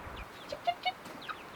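Soft, scattered clucking from a few chickens close by, short chirpy calls popping up irregularly over a quiet background.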